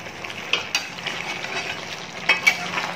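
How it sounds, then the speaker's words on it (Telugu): Spicy goat head curry is stirred in a pan over a steady soft sizzle, with a few light spoon scrapes and knocks against the metal. "ఈ విధంగా బాగా కలుపుకోవాలి"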